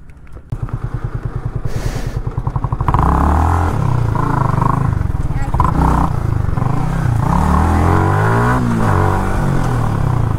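A motorcycle engine idles with a rapid putter, then revs up and holds a loud, steady drone with rising and falling pitch, close by.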